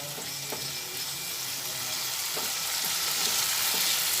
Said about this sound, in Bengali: তিনটে কাঁচা লঙ্কা দিয়ে আবার ভালোভাবে মশলাটা ভেজে নিচ্ছি